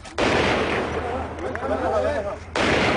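Gunfire crackles in a rebel-held district, with a burst of rapid shots and distant booms layered into a noisy, continuous outdoor din, while a voice talks faintly in the middle.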